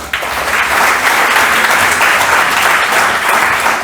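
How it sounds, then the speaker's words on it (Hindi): Loud, dense applause from an audience at a Hindi comedy stage show, a steady roar of clapping that fills the whole stretch with no voices over it. "आप एक बार अपने सम्मान में जोरदार तालियां बजा लें।"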